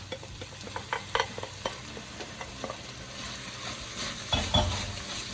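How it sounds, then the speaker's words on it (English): Seasoned browned ground beef sizzles in a pan for chili as a utensil stirs and scrapes it in repeated close taps and clatters over a steady frying hiss, with no voices. "So now we're gonna start putting this guy together. So we're gonna add our seasoned browned ground beef."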